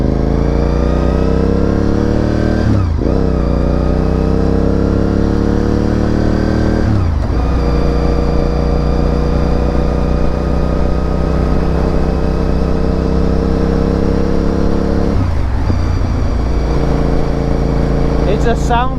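A Honda RC51 sport motorcycle's engine screams loudly and continuously at high revs, the pitch dropping and climbing again at a few gear changes across the run.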